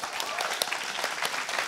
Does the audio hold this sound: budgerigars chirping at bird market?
no